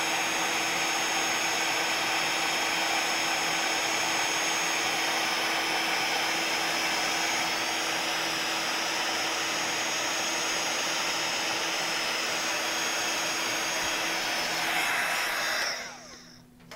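A handheld heat tool melting embossing powder over embossing ink during a craft project, a loud, steady blowing whoosh that runs unbroken for most of the clip before cutting off at the end.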